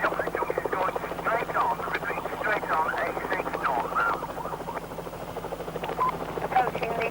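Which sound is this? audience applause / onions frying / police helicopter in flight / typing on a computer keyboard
police helicopter in flight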